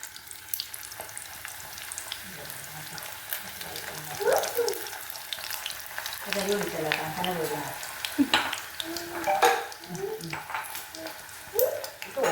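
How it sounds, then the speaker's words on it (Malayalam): Oil crackles and sizzles steadily as samosas deep-fry in hot oil, with scattered pops and soft clinks of utensils, and a voice talking intermittently over it. "എണ്ണ ചൂടായി വരുന്നുണ്ട് നമുക്ക് സമോസ ഇട്ട് കൊടുക്കാം"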